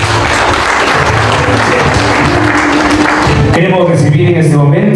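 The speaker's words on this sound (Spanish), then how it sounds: "El aplauso para ella también, por favor." Applause for a young girl at a quinceañera celebration, a crowd clapping steadily and loudly for several seconds before it thins out while a voice talks over it.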